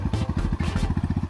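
Motorcycle engine idling as the bike is parked near a waterfall trail in Chakrashila Wildlife Sanctuary, a steady low throbbing putter, close and continuous over a short stretch.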